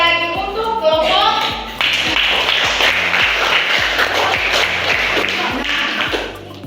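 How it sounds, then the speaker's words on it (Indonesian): A group of classroom students claps together for their classmates, producing a burst of dense, fast applause with some sharper individual claps, over a steady beat of background music and faint shuffling. "Kita berikan aplaus sekali lagi untuk kelompok."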